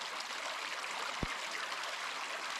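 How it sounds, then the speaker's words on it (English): A creek running full after heavy rain in the Warrumbungles, its steady broadband rush and trickle continuous and fairly close throughout, with one brief low thump partway through. "I should point out how well the creeks are flowing"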